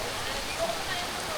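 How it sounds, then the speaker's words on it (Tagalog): Steady rain falls outdoors at a campsite in Tanay, Rizal in the afternoon, a continuous soft broadband hiss with faint drips, low in level and even throughout. "kasalukuyang umuulan"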